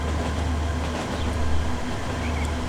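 Train running in the video game Transport Fever 2, a steady low rumble of rolling wagons with a faint mechanical hum and light rail clatter, continuous and moderately loud, with no voices.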